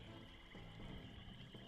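Hostile viper frogs in Wizardry 8 croak in short repeated bursts over a faint steady ambient drone, quiet and somewhat distant, with no talk.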